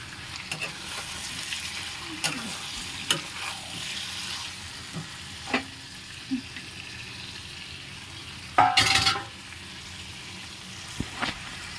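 Marinated meat sizzles and fries steadily in a pan, with intermittent scraping clicks of stirring and one louder burst of sizzle partway through; no one speaks.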